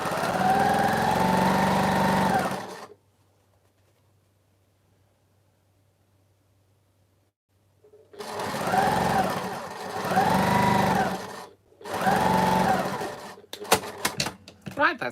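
Juki sewing machine stitching fabric, a loud steady whirring run that stops, then resumes in three short bursts, with brief clicking at the end.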